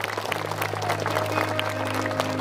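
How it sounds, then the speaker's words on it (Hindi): Congregation clapping hands in thanks to God at a prayer festival in Kashiabari, Kokrajhar, a steady dense crowd applause with a low hum running beneath it throughout. "ताली बजा के थैंक्स करें परमेश्वर का।"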